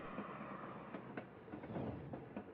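A train rolling along rails in the video game Little Witch in the Woods, with a steady low rumble and faint rhythmic clickety-clack, moderately loud and continuous.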